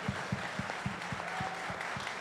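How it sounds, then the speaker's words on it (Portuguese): A small church congregation claps in a steady rhythm of evenly spaced beats, moderately loud in a room. "uma salva de palmas aos irmãos queridos"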